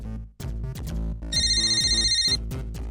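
A phone rings with a bright electronic ringtone, one sustained trill lasting about a second over a bed of music, with no speech during it.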